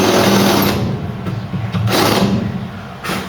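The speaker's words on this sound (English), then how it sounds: "Now we're clear for another plug back to the spot weld drill bit." Spot weld drill bit cutting out a spot weld on a Mk3 Ford Cortina body under restoration, a close, loud continuous high-pitched whine broken by brief pauses and shifts in pitch.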